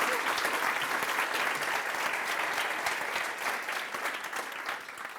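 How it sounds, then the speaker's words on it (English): An audience applauds the team, a loud, dense, sustained roar of clapping hands from a sizable crowd that stays steady before easing slightly at the end. "So can we just give a quick round of applause to the team here?"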